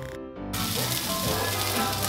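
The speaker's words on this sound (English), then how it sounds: "This is the first time that I've used our new induction stove for frying, and this is also a new pan." Zucchini frying in a new pan on an induction stove gives a steady, close hiss of sizzling that starts abruptly and holds loud and even.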